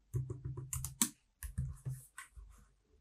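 Short bursts of quick keystrokes on a computer keyboard, close and crisp clicks typing a line of text, pausing briefly between bursts, with nobody speaking.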